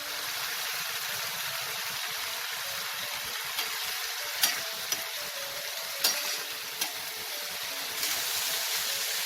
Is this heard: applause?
no